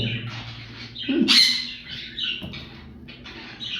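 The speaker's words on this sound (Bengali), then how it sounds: "এই হচ্ছে কবুতরটা" A single moulting Oriental Frill pigeon gives a short squawk-like call close by, followed by quieter rustling and faint shuffling in an otherwise calm space.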